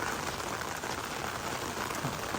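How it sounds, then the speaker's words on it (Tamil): Heavy rain pours steadily onto a road in Palali, Jaffna area, a dense continuous hiss of drops on wet pavement with no pauses, loud and close throughout. "நல்லா கொட்டுது மழை"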